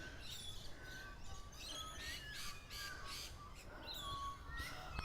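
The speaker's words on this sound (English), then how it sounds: "We can hear the magpies calling as well." Magpies call in the early morning beside a lake, repeated harsh squawking and chattering notes overlapping from a few birds, moderately distant over a soft steady background.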